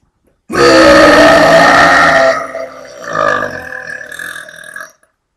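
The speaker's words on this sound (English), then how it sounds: "I guess I'll do one more burp" A long, loud, deep burp rumbles close up for nearly two seconds, followed by a softer, gurgling second belch trailing off.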